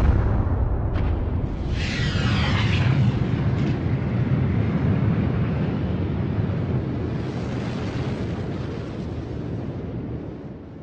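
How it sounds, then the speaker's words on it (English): A massive star exploding as a supernova, rendered as a loud, sustained roaring rumble like a deep blast and rushing wind that swells early and slowly fades over about ten seconds, with no voices. "Massive stars end explosively."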